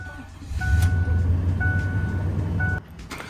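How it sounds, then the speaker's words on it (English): A truck started remotely: the engine turns over and settles into a low, steady idle rumble close by, with intermittent electronic beeps over it, then cuts off abruptly near the end. "Man, I haven't started this truck in so long."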